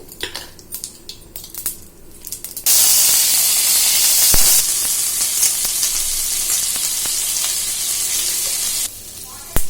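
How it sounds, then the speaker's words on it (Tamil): Mustard seeds sizzle and crackle in hot oil in a kadai, a loud, steady frying hiss that starts abruptly after a few quieter clatters, holds for about six seconds, then drops back to softer kitchen sounds. "1 டேபிள் ஸ்பூன் எண்ணெய் ஊத்திட்டோனே எண்ணெய் காஞ்ச உடனே கடுகு"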